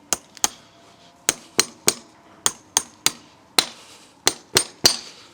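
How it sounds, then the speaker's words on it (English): Hammer blows drive horseshoe nails into a horse's hoof, a run of about thirteen sharp metallic strikes in quick clusters with short ringing tails, close and loud, with no talking. "I'm going to half nail that in so it doesn't move over."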